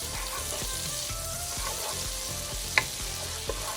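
Vermicelli noodles fry steadily in a pan of hot butter and oil, a continuous close sizzle with faint stirring scrapes and a couple of sharp clicks near the end.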